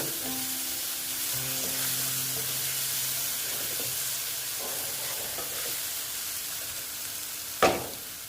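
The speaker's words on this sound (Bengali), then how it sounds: "এবার আমি ভালো মতো মশলাটা কষিয়ে নেব" Spice paste for a boal fish curry sautéing in a pan, a steady soft sizzle with light stirring scrapes throughout and one sharp clink near the end.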